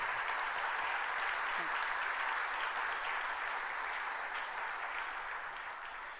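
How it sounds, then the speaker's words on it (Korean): A church congregation at a Friday all-night worship service claps warmly to welcome a standing guest, a dense, even rush of applause that holds steady and fades slightly toward the end. "자리에서 일어나실 때 따뜻한 박수로 환영해 주시기 바랍니다"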